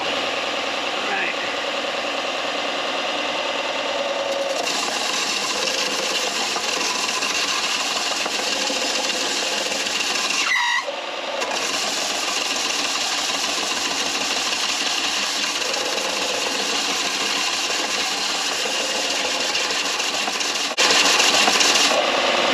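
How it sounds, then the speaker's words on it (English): Belt sander grinding a metal intake manifold, a steady broadband rasping whir that runs almost continuously, briefly dropping out near the middle before resuming at the same close, even level. "I think I'm ready to hit it on the belt sander"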